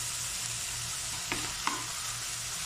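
Garlic sizzles steadily in a hot pan for soy-based beef giniling, a continuous frying hiss with two short scraping knocks of a utensil partway through; no talking.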